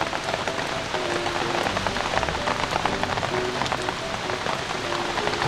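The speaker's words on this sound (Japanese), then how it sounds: "雨もめちゃくちゃひどくなってるんですよ" Heavy rain pours steadily at a forest campsite, a dense, continuous patter of drops drumming on surfaces, close and loud with no pauses, and no voices over it.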